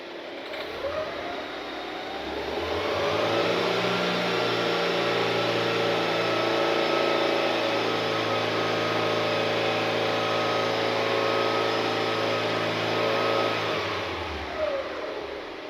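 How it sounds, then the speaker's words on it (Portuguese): A Fiat Panda 1.2 engine, showing a P0420 fault, rises from idle into a sustained, strong rev held for about ten seconds before dropping back to idle, heard close and alone. "Vamos então agora também provocar a aceleração no motor e vamos comprovar qual é a reação das sondas."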